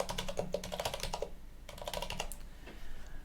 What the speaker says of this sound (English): And then we go and type everything in.